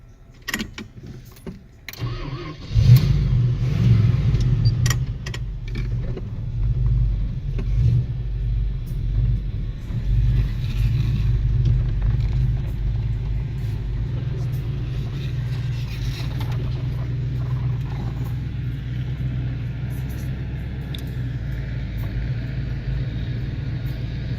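A 1941 International Harvester pickup truck cruises along a highway, its old engine giving a steady low rumble with road and wind noise, loud and close from inside the cab, with a brief rise as it picks up speed early on.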